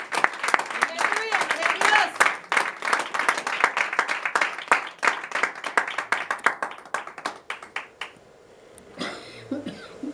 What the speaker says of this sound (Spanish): Denle un aplauso una vez más a su Señor.